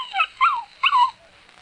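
A few dogs whimpering and yipping in short rising whines, three quick close bursts within a second and a half, then quiet.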